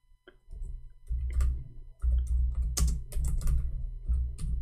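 Computer keyboard typing starts after a moment of near silence and runs in quick close bursts of clacking keystrokes with short pauses between them, alone without speech.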